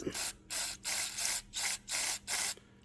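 Spray lubricant squirted through a straw into the carburetor of an old snowmobile long stored in a barn: seven short hissing bursts in a steady rhythm, close and fairly loud, with no voices.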